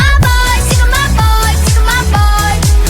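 A song plays loudly, a driving pop beat with heavy rhythmic bass pulses and bright melodic lines repeating evenly, with no talking over it.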